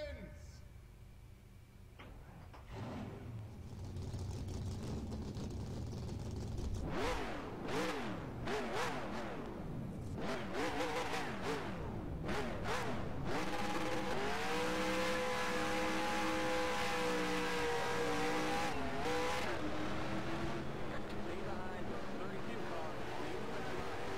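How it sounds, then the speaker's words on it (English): Race car engines in a NASCAR Racing 2003 video game, a dense continuous drone of many cars revving and rising in pitch as the pack gets going, loud and steady, with a voice talking over it. "Drivers, start your engines."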